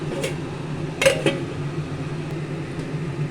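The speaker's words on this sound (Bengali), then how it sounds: "এবার কিন্তু আমি ঢাকনা দিয়ে ঢেকে দেবো" A lid goes onto a cooking pot on the stove with two quick metallic clinks and a brief ring, then only a low steady hum of the kitchen.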